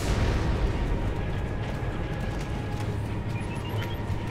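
Flak turrets firing in the space combat game Strike Suit Zero, a dense continuous rumble of booming bursts and crackling blasts, loud and close, with brief high whistling tones near the end.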